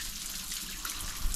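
A bathroom tap runs steadily into a sink with a soft, even hiss while someone brushes their teeth, heard close and fairly quiet, with no voices.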